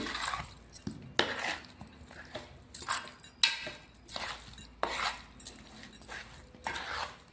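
A spoon scrapes and clinks against a bowl while Telangana-style amla pickle is stirred after lime juice goes in, giving a series of irregular, close clattering strokes with brief pauses between them.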